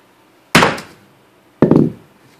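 A bowling ball pounded down onto a belt buckle to dome it: two heavy, sharp thuds about a second apart, each with a brief ringing decay, close and loud with no talk.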